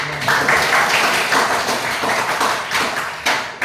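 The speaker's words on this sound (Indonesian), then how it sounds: "kalau begitu tepuk tangan lagi" Classroom audience giving a loud round of applause for a student group that has just presented, dense close clapping that sustains for a few seconds before breaking off.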